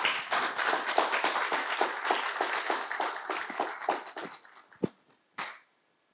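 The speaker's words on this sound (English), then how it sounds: "Please put your hands together for Toastmaster Prajesh Varki." Audience at a Toastmasters event clapping to welcome a speaker, a brisk run of distinct claps from a modest crowd that thins out toward the end, with a couple of final isolated claps.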